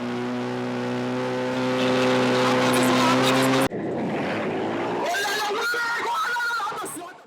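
Motorcycles rev loudly at a biker demonstration in Guadeloupe, a sustained droning engine roar that cuts off sharply and gives way to crowd noise and several voices.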